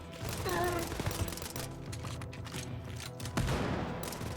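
Pistol fire in the video game Wolfenstein Youngblood crackles amid a busy battle mix, with several sharp shots and low booms scattered over about four seconds, moderately loud.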